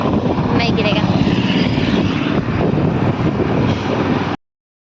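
A motorbike rides out from home toward the shops through market lanes, its engine droning steadily and loud up close with broadband road and wind rumble, under voices talking.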